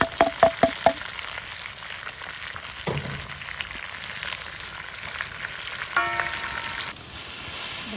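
Chicken frying with onion and garlic in a pan over a campfire outdoors: a steady soft sizzle with a few sharp clicks and knocks of utensils early on and a louder rustle near the end.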